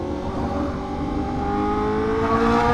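A Honda Fireblade superbike engine revs near a busy beach road on the Fourth of July, its tone climbing smoothly and loudly with no talk over it.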